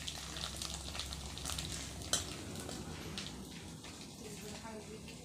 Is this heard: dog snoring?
no